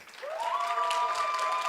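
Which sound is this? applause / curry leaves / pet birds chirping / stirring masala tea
applause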